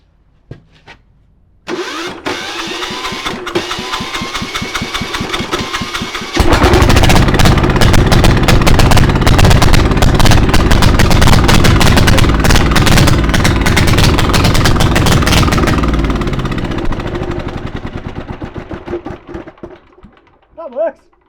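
A new 186F single-cylinder diesel engine cranks briefly, then catches and runs loud and close, with a steady rapid knocking beat that holds for about fifteen seconds before slowing and dying away to silence.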